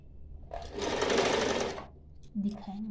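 A sewing machine runs in one steady buzzing burst lasting about a second and a half while stitching the folded edge of a small cloth face mask, followed by brief handling sounds of the fabric.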